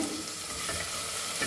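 Finely chopped onion hits hot oil with whole dry spices in a pan for Goan vegetable pulao, giving a steady, close hissing sizzle with faint stirring throughout.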